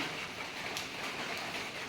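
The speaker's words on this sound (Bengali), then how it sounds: "আর এই দেখো ঝিরিঝিরি বৃষ্টি হয়েই যাচ্ছে" Light drizzling rain falls steadily outdoors, a soft, even hiss that holds at the same level from start to finish with no voices.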